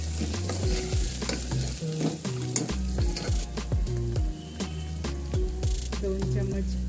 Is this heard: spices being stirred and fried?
yes